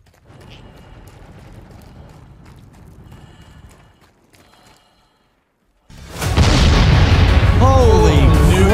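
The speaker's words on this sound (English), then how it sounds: "Holy nuke after nuke after nuke." A nuke explosion in the space game Star Citizen arrives after a low rumbling lull: a sudden, massive boom that swells into a loud, sustained roar through to the end.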